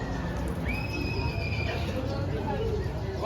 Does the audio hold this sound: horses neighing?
yes